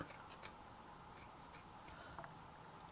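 Quiet scissor snips trimming ribbon, a few short crisp cuts spaced irregularly in a still room.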